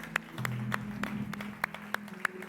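Church congregation applauding during a sermon, heard as sparse, evenly spaced sharp claps at a fairly quiet level, with a low sustained tonal hum running underneath and no talking.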